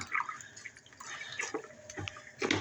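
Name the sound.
rinsing a grout sponge in water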